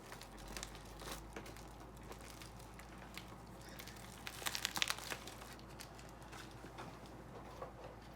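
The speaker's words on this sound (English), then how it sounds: "Alright, let's open the package." Opening a ScentBird perfume subscription package: soft crinkling and rustling of packaging close by, with a louder burst of crinkling partway through and no talking.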